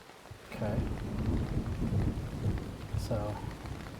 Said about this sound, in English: it's raining pretty aggressively